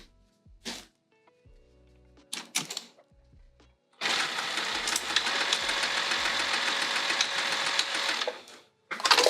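A sewing machine runs steadily for about five seconds, re-stitching a seam on a bag, preceded by a few short clicks and handling noises and followed by a final brief whir.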